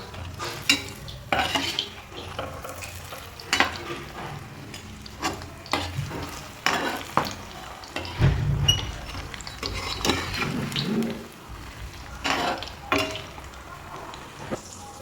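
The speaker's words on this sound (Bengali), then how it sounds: "উল্টে পাল্টে এগুলোকে ফ্রাই করে নেব।" Kashmiri chili pakoras sizzle steadily in oil in a pan while a utensil scrapes and clatters now and then, with occasional louder stirring bursts and no talking.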